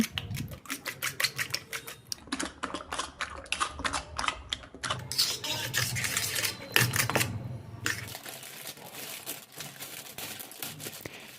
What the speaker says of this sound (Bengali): এবার ডিমটা ভালো করে ফেটিয়ে নেব